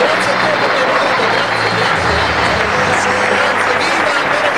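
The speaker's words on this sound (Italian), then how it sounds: "Continuiamo ad applaudire tutti insieme." Audience applause at an outdoor community event in Motta San Giovanni, a dense steady wash of many hands clapping together, loud and sustained throughout with crowd murmur mixed in.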